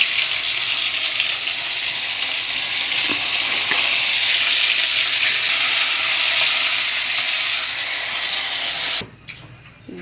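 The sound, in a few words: fish and potatoes frying in spiced oil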